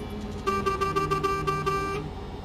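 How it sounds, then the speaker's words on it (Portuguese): A car horn in the Richard Burns Rally racing game honks in a rapid series of short toots over a steady engine drone, fairly faint. "Ó, oh, buzina, hein?"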